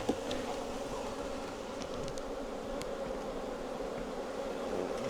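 Honey bees hum steadily around an opened hive during a honey harvest, a dense, even drone close to the microphone with a few brief clicks and no voices.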